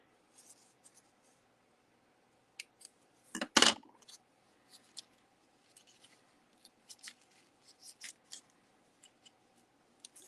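A few sharp scissor snips cutting masking tape stand out amid quiet rustling and light tapping, with one louder crinkly cut near the middle.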